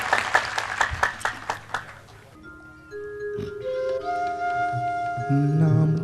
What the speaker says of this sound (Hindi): एक ज़ोरदार ताली बजा दें